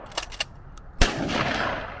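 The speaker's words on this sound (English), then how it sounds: "shoot his 12 gauge at 100 yards" A 12 gauge shotgun loaded with double-aught buckshot, fired outdoors toward a target about 100 yards away: a few faint clicks, then one sharp, loud blast with a long rolling decay.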